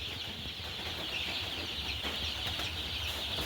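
Four-day-old chicken chicks peep continuously in a faint, steady chorus with no other distinct sounds.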